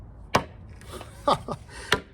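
Large machete chopping into a harder PVC sprinkler water hose outdoors, giving three or four sharp, close hacking impacts spaced irregularly over about two seconds with no talk.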